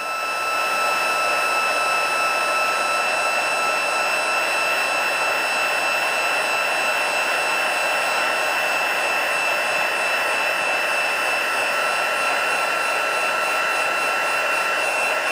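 A heat embossing tool blows a steady, loud, unbroken whir with a faint whine while melting embossing powder on a card sentiment, with no talking.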